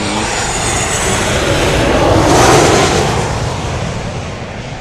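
An airplane roars past at an airport plane-spotting event at DFW, a loud, broad engine rush that swells to a peak midway and then slowly recedes.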